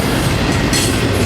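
Norfolk Southern intermodal freight train rolling south at Cooke Road, a loud, steady rumble of railcars passing close by with continuous wheel noise.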